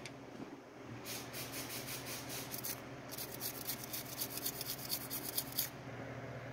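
Quick, faint bristly scrubbing strokes repeat in rapid bursts, a toothbrush working back and forth on a rust-stained electrical connector up close.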